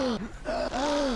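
A voice imitates a wrestler's heavy breathing in a few loud, close gasping and groaning breaths, rising and falling, with no words.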